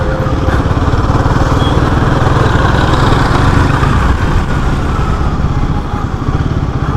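A Royal Enfield Guerrilla 450 single-cylinder engine drones steadily and loudly while the motorcycle is ridden, with a dense, even rumble and road and wind rush filling the whole stretch and no break in the sound.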